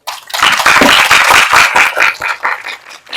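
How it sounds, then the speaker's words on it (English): Quiz audience applauding the three finalist teams at an international ECMO quiz, loud dense clapping that starts abruptly, holds strong, then thins into scattered claps near the end. "Can we have a round of applause for them?"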